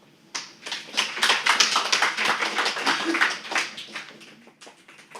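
Audience applause at a women's health symposium after a talk: a sustained burst of many hands clapping, fairly close and steady for about five seconds, with no speech over it.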